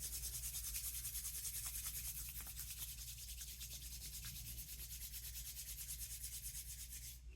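Two palms rubbed briskly back and forth against each other, a steady close swishing friction in quick, even strokes that keeps going without pause, quiet and with no talking.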